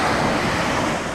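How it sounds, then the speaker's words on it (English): Ocean surf rolls onto the beach at Smith Point Park on Fire Island, Suffolk County, a steady broadband wash of breaking waves with wind buffeting the microphone, continuous and fairly loud throughout. "Pretty good waves today."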